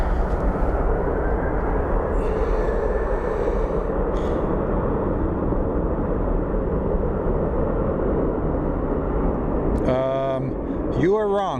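A WestJet airliner passing at Phoenix Sky Harbor airport, a loud steady roar filling the whole stretch, near and continuous, with a brief whine and chirping at the end.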